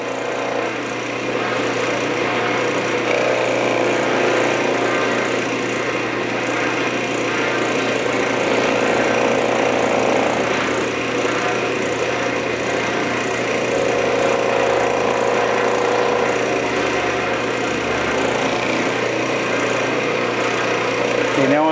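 A steady, continuous mechanical whir with a broad hissing grind runs throughout, as sandpaper is pressed to a wooden bowl spinning on a lathe.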